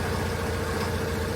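A boat's engine idles at operating temperature in a steady, close, continuous low rumble with a constant even tone just before being shut off.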